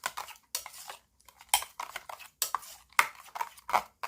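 Seasoned butterbur and fleabane greens are mixed with perilla seeds in a bowl, giving close clinks and scrapes of utensils in short uneven bursts with gaps, no voices.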